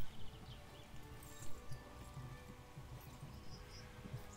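Horse hooves beat in a quick, irregular rhythm during a ride in the video game Kingdom Come: Deliverance, fairly faint under a low ambient bed with no speech.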